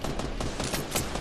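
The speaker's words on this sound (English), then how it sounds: "He's shooting it down." Rapid automatic gunfire in the video game Fortnite, a dense burst of close, loud shots firing in quick succession without a pause.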